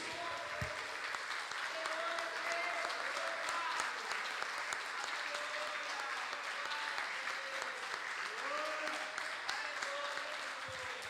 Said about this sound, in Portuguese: Vamos aplaudi-lo bem forte.